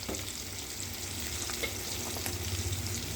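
Brinjal pieces fry in a pan with a steady, close sizzle and crackle that holds evenly throughout, with no talking.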